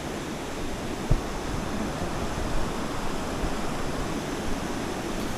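A clear, glacier-fed river flows through a mountain valley in freezing conditions, giving a constant, dense rushing wash of water with no voices over it.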